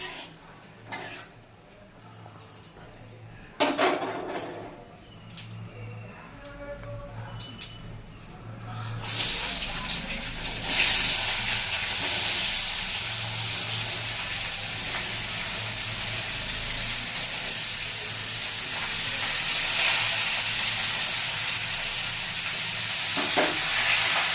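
Whole cumin seeds and a bay leaf hit hot oil in a kadai, bursting into a loud, steady sizzle and hiss that swells after a quieter start and holds throughout, with faint clinks of stirring.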